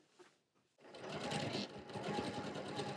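Sewing machine stitching an apron pocket, a short pause then a steady fast running whir close by after a brief soft voice at the start.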